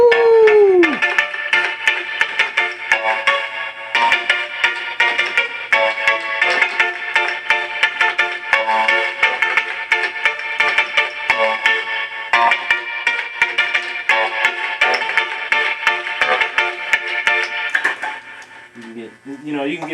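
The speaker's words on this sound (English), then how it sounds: "This is a clavinet D6." Clavinet D6 keyboard played in a studio, run through reverb, giving bright, percussive, twangy funk notes in a continuous busy pattern that fades out near the end, loud and close.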